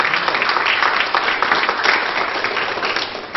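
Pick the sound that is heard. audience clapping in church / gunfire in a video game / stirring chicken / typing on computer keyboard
audience clapping in church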